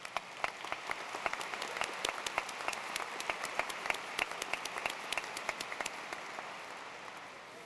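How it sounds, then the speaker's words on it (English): Commencement audience at a college of engineering graduation applauding the graduates, a steady wash of many hands with crisp individual claps standing out, sustained and moderately loud throughout. "Let's give them a round of applause."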